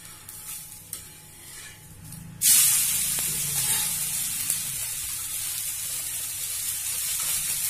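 Ghee sizzles in a hot pan while tulasi dosa is made, a sudden loud hiss and crackle bursting in partway through and then holding steady and close, with no talk over it.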